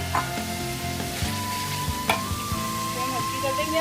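Beef liver frying with ginger and garlic as tomatoes go in, giving a steady close sizzle with faint stirring clinks and a brief sharp tap partway through.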